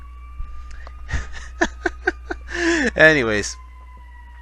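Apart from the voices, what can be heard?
ambulance siren passing by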